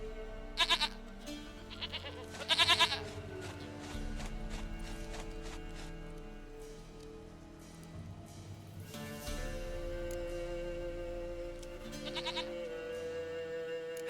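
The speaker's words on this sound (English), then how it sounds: "Goat of mine, dearest, sweetest goat." Goat bleating in The Witcher 3 video game, a few short bleats early and late among hoof clops and a steady ambient musical drone, no talk.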